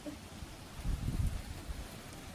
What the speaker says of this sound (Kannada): ಇವಾಗ ಗಾಳಿ ಮಳೆ ನೋಡಿ ಎಷ್ಟು ಜೋರು ಬರ್ತಿದೆ